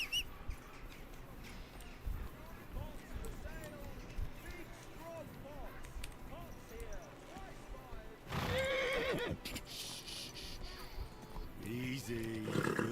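A horse whinnies several times amid hoofbeats and game effects in the video game Kingdom Come: Deliverance II, with a louder burst of noise near the end; no clear talk over it.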